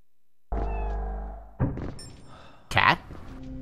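A cat meows in the Echo Night: Beyond video game: a short, clear meow followed by a dull thunk and another brief cry, near and fairly quiet, with no other sounds.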